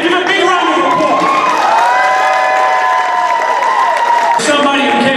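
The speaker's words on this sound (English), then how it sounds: "Give a big round of applause." A large indoor audience applauds and cheers loudly and steadily, with whoops and shouts rising over continuous clapping, at a reunion event for the film Gotti.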